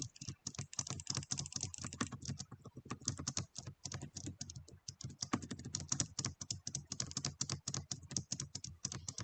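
Rapid, continuous keyboard typing with dense clicking keystrokes on a computer keyboard's WASD keys during Hades gameplay, steady and close throughout with no talk.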